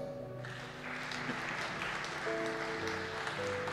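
A church congregation breaking into applause to acclaim Jesus, a sustained burst of clapping that swells after a quiet moment and continues under lingering organ or keyboard tones.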